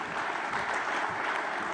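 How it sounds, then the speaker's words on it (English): Steady applause from a crowd at a DP World ILT20 cricket stars evening, moderately distant, continuous clapping without pause. "a round of applause for this magnificent legends"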